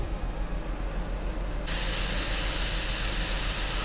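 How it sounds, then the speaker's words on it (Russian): Liver soaked in milk fries in a pan with a loud, steady sizzling hiss that surges stronger partway through, with no talk over it. "И обжариваем до готовности."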